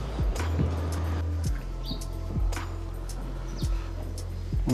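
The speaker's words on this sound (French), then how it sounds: "On entend les petits oiseaux." Small birds chirp in short, high tweets scattered over a low engine-like hum and faint street background on Réunion Island; no talking.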